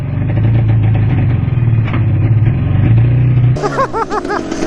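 A Yamaha Banshee ATV engine runs loud and close with a steady low two-stroke drone, then revs up sharply in rising, warbling bursts near the end.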